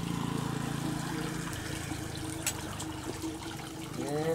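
Water from a Persian wheel well in Punjab trickles and splashes in a continuous close stream, with a few brief knocks and creaks over the flow.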